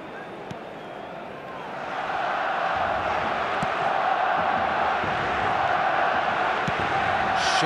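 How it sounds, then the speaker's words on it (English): Crowd cheering from eFootball PES 2022 during a Barcelona vs Arsenal match, a steady broad stadium roar that swells louder after the first couple of seconds and holds there. "at least the crowd are appreciative of his efforts"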